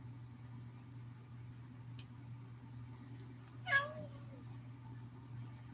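A single cat meows once, fairly close but brief, rising and falling over a steady low indoor hum, with no other sounds around it.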